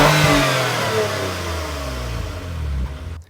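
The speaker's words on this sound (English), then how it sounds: "And here's how it sounds from the outside." Toyota Camry XSE V6 engine and exhaust heard from outside the car, revving loudly with a rising then steady drone before tapering off sharply at the end; no talking.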